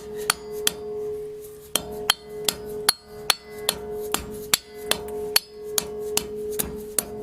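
Sharp hammer whacks knock the dust cap off a 2nd-gen Toyota Tacoma CV axle: about a dozen and a half loud, close metallic strikes in an uneven, fairly quick rhythm, with brief pauses between groups.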